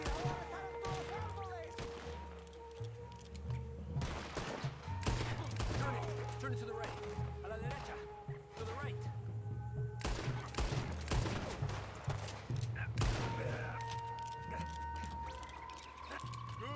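Shootout in Red Dead Redemption 2 on Guarma: repeated loud gunshots in bursts and volleys over a droning game soundtrack, with a voice talking between shots.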